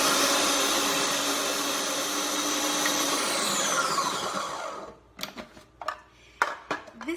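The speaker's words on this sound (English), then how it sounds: "So I want to turn on the processor." A food processor whirs loudly and continuously while blending a Mediterranean dip, then cuts off after about five seconds, leaving several sharp knocks and clatters of the bowl and lid.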